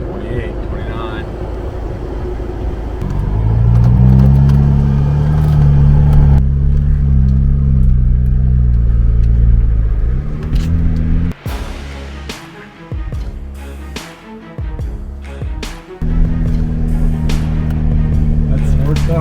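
A Jeep climbs a rocky off-road trail in Utah, its engine droning and straining louder and then easing, with tire crunches and thumps as people talk inside over the noise.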